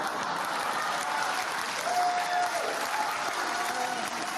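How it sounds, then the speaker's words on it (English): A live studio audience bursts into steady, dense applause after a comedian's joke, a loud, even wash of clapping that holds for several seconds without a break. "if your audience is applauding that much, you've made a mistake."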